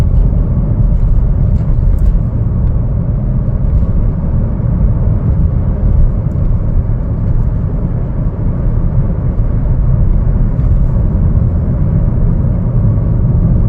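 A 2025 Chevrolet Trailblazer AWD LT accelerates, its engine a loud, steady low rumble blended with road and cabin noise throughout, no voices heard.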